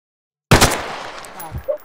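Gunfire from a police roleplay video game: a burst of rapid shots starts abruptly after half a second of silence, then trails into decaying echoes with a couple of fainter follow-up pops near the end.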